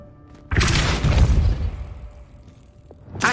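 A Depulso force spell cast in Hogwarts Legacy lands as a sudden loud whooshing boom that fades over about a second, with another burst starting at the end.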